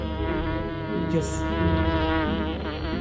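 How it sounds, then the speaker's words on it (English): Bees buzz among plants in a dense, steady drone that stays loud and continuous throughout, with a single short spoken word near the start. "It is the music of bees,"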